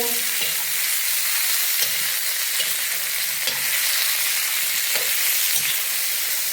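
Tomatoes sautéing in a pan give off a steady, loud sizzle and frying hiss throughout, with faint scraping from stirring mixed in.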